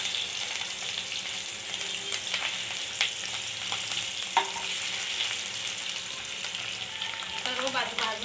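Stuffed bitter gourds roast in a pan, giving a continuous oily sizzle with occasional clicks and scrapes as they are turned, close by and without talk.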